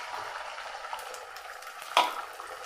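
Egg frying in coconut oil in a pan, a soft steady sizzle close by with one brief sharp clink or stir near the end.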